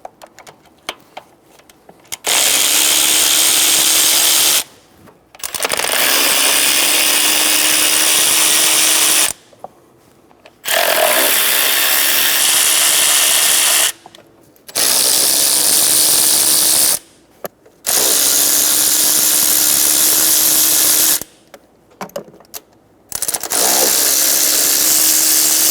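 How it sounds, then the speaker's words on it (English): A power tool fitted with a 10mm socket removes intake bolts on a 2014-2018 Chevrolet Silverado 1500 with a 5.3L V8, roaring in loud sustained whirring bursts of several seconds each, separated by short silent gaps. "Using a 10mm socket, we're going to go around and remove all of the bolts for the intake"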